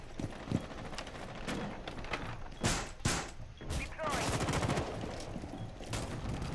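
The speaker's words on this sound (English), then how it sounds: "they just shot out the window over here" Gunfire in the video game Rainbow Six Siege shoots out a window, heard as sharp cracks and a rattling burst mixed with glass-like clatter, fairly loud over a constant game background with brief voice chatter.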